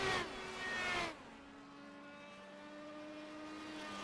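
An IndyCar race car in a racing video game running off power on the Indianapolis oval, its engine a steady droning tone that starts louder, then drops to a flatter, weaker hum with slowly shifting pitch.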